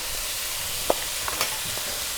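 Steady sizzle of food searing in hot fat in a pan, left undisturbed, with a few faint clicks and light utensil taps over a continuous hiss.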